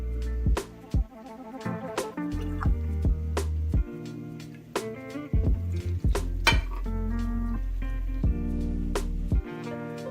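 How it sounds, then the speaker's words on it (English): Almonds and walnuts are stirred into oats in a kitchen, with repeated sharp clinks and scrapes of a utensil against a dish, arriving in an irregular rhythm and sounding close and clear. "I give them a stir"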